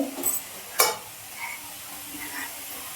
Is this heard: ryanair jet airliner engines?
no